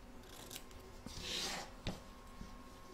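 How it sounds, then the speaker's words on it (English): Scissors trimming excess fabric from around the heel of an in-the-hoop embroidered witch's boot, a few quiet snips and rustles, close and faint, without speech. "You're now going to trim up the excess fabric from around the heel"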